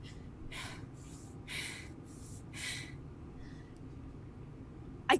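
A voice imitates heavy panting with about five rough, breathy gasps in quick succession, close and quiet, then a short sharp knock at the end.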